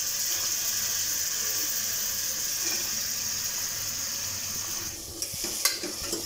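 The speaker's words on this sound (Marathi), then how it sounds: "डाळीलाही थोडं परतायचं आहे" Chana dal, soaked for half an hour, sizzles as it is sautéed in hot oil for a goat-intestine vajri masala. The frying hiss is steady and close, with a few sharp stirring clinks near the end.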